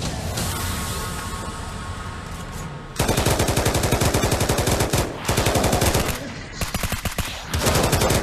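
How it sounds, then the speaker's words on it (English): An automatic shotgun fires in the zombie multiplayer VR game Pavlov on Oculus Quest 2, loud rapid repeating blasts in long sustained runs broken by short pauses, following a brief rumbling lead-in. "it's an automatic shotgun"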